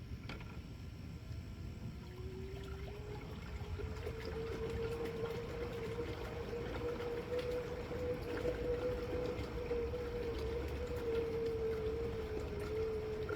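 Solar-powered motor being put under load, a faint steady whine that rises in pitch and then holds over a low rumbling background, with no voices.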